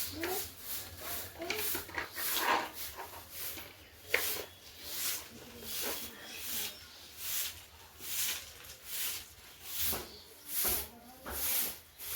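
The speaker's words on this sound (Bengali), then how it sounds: "এখন আমি ঝাড়ঝাটা দিয়ে পরিষ্কার করে নেবো" A broom sweeps a floor indoors in steady, rhythmic strokes, each a soft brushing swish repeating about once a second at close range.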